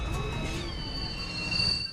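The long El Chepe passenger train rolls along its rails near the mountain town of Bajo Chivo, a steady loud rumble with sustained high metallic wheel squeal over it.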